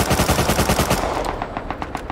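MP5 gunfire in the Rust survival game, a rapid close burst of automatic shots lasting about two seconds with no talking.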